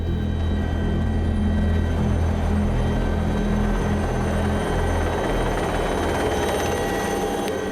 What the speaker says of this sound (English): the pilot has to hover while the rescue team jumps out